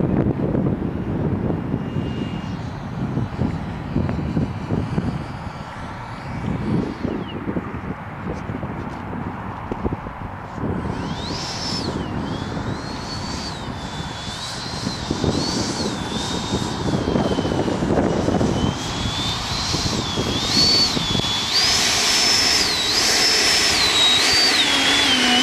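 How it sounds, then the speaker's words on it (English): Freewing FA-18 RC model jet flying outdoors, its ducted-fan whine rising and falling as it passes, over rough wind and handling noise, with someone talking nearby. "Freewing FA-18, about my third flight, which is pretty good."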